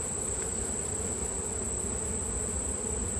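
Honey bees swarm around a hive during bulk syrup feeding, their dense, continuous buzz holding at an even, fairly loud level throughout with no voices.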